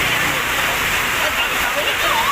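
Heavy rain pours down steadily in a flooding downpour, a dense continuous hiss that stays loud and unbroken throughout, close by with no voices.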